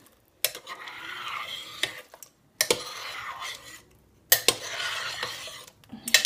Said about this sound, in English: I'm gonna get my spoon and give these a stir.